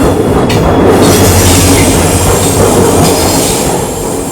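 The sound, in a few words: express train hauled by WAP-4 electric locomotive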